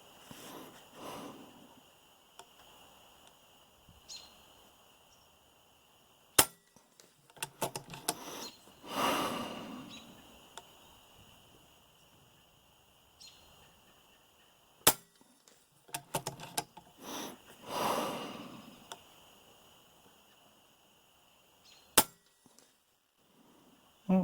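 FX Impact MKII .22 air rifle firing at targets at 100 yards: three sharp, loud cracks spaced several seconds apart, with quieter clicks and handling noises in between.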